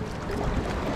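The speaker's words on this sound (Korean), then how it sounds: "파도야 그만 쳐. 어 파도 왜 이렇게 세." Strong waves surge on a rocky Jeju shoreline during a fishing outing, a loud broadband rush of churning water and wind filling the whole second, close to the microphone, with no speech.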